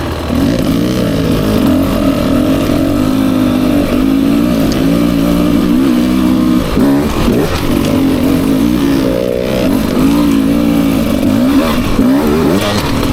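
A 2024 Beta 300 RR Race Edition two-stroke dirt bike rides a muddy track, its engine loud and close with a continuous buzzing drone that rises and falls with throttle, briefly dipping before pulling hard again.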